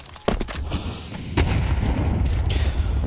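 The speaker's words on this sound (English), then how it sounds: "Nade blown open on the ramp." A grenade blows up on a ramp during a Counter-Strike match, a sharp loud crack followed by a dense blast and echoing rumble, with another burst of gunfire-like bangs a second later.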